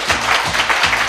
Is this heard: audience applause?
yes